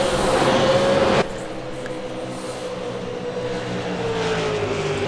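Supercar engines roar in iRacing at Bathurst. One car screams loudly past in the first second before cutting away, then a steadier engine drone with a rising whine holds under a commentator's voice.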